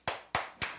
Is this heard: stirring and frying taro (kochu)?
no